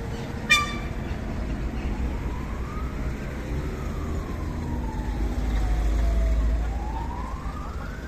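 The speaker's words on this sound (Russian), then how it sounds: "Скорая помощь едет." An ambulance siren wails in rising and falling sweeps, growing louder as it passes over a steady low rumble of traffic on Vorošilov Street in Taraz, Kazakhstan.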